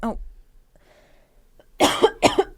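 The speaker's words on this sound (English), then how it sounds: "I'm coughing." Two sharp, loud coughs close together near the end, following a brief murmur and quiet pause.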